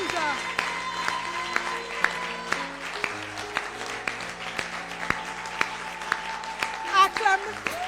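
A church congregation in Tangier claps in a steady beat during a worship service. Each sharp clap lands over sung voices and music.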